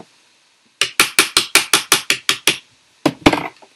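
A bath bomb mold tapped to release the bomb: about nine sharp, evenly spaced hard taps, then a short pause and a couple more knocks with a clattering rattle, close and loud.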